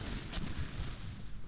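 Explosions in the video game Bridge Constructor Portal make a dense, booming rumble with heavy low-end blasts and a sharp burst near the start, loud and continuous for a moment.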